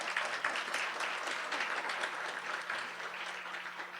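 An audience at a legislator education forum applauds in a steady, full wash of clapping that carries on throughout and tapers slightly toward the end, with no voices over it.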